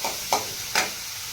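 Onions are fried in oil for chicken masala, with a soft steady sizzle and two quick scraping stirs of the spoon close by.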